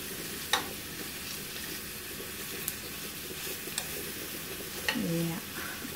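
Pork chops fry in a pan with a soft, steady sizzle, quiet and close, broken by a few utensil clicks and a brief murmur.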